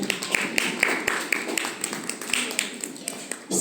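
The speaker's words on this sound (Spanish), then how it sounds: "a quien recibimos también con unas palmas" Audience clapping at a women's thought-and-power talk, welcoming a psychologist to the stage; scattered, uneven claps at moderate level with sharp individual hits, thinning out before a louder bump at the end.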